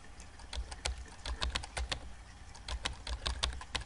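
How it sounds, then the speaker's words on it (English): Rapid keyboard typing in the video game Emily Is Away, a dense run of crisp, close key clicks at a fast, uneven pace with no voices over it. "I feel like a robot typing at this speed."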